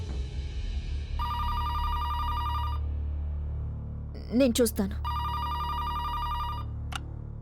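A telephone rings indoors in two long electronic bursts of rapid, trilling bell tones, with a brief spoken line falling between the rings.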